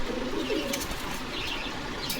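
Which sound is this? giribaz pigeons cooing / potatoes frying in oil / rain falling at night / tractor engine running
giribaz pigeons cooing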